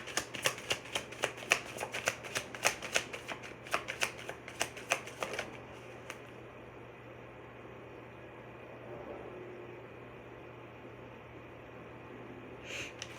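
A deck of tarot cards is shuffled by hand, with rapid crisp riffling bursts for about five seconds, then quiet room tone and a brief rustle near the end. The sound is close and there is no talk.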